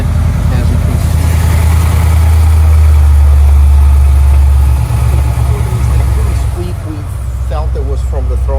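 A supercharged 2005 Ford Mustang GT Saleen V8 with a 5.0 stroker idles steadily and loudly nearby, a deep continuous rumble with a brief revving swell near the end, while someone talks over it.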